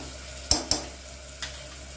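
Ginger garlic paste fries with onions in a pan, a soft steady sizzle broken by three sharp clacks of a spoon stirring against the pan.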